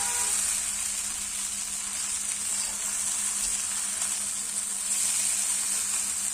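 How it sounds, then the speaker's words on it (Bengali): Chowmein fries with soy sauce in a hot pan, giving a steady, close, fairly loud hiss and crackle that swells slightly near the end, with no voices. "এটাকে সুন্দর করে এখন ফ্রাই করে নিই"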